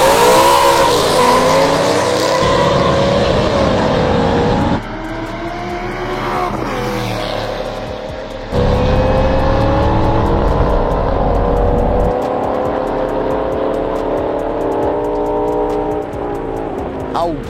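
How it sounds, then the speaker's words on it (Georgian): A BMW M6 with a Dinan-tuned V10 races a Mercedes W211 Kompressor, loud close engines howling and revving through rising and falling gear changes with brief tyre squeal, and occasional voices underneath. "ანუ V10-ის ხმა არის ისეთი ბრუტალური,"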